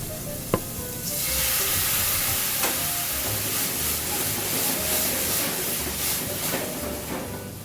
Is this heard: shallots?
yes